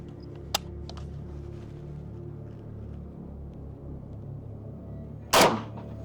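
A single sharp, loud AK-74 rifle shot fired at a class 3 armor plate cracks near the end, preceded by a faint click, over a low steady background hum.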